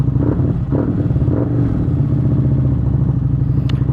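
Harley Davidson Street Rod 750 motorcycle engine warming up, a loud close steady idle with a deep throbbing rumble and even pulsing exhaust beat, running alone throughout.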